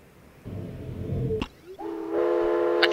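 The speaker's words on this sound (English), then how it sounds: "We've got a train whistle" A train whistle sounds in the game realMyst: a low rumbling passage, then a steady, harmonic whistle tone that holds loud and unbroken to the end.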